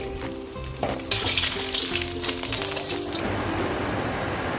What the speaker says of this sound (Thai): เราจะผัดกันเลยนะคะ พริกที่เราโขลกไว้แล้วก็ใบมะกรูดนะคะ